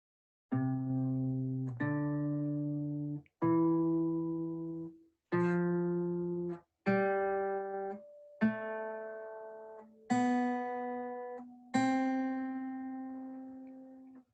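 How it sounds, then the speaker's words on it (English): A sequence of eight plucked guitar notes rising one after another in steady rhythm, each ringing clearly and decaying before the next. "We're going to play one on the guitar. This is what it will sound like."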